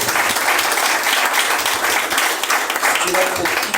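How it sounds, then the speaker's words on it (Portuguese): A church congregation applauding during a vigil service: loud, dense clapping from many people, sustained throughout, with faint voices and a brief tonal sound near the end. "Quem pode aplaudir o nome santo do Senhor?"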